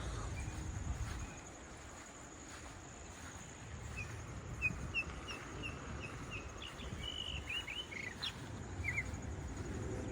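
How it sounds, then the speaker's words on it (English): Birds sing outdoors in Sleepy Hollow, New York, giving faint, scattered chirps and short trills over a steady outdoor hum and insect-like buzz. "Hey, birds."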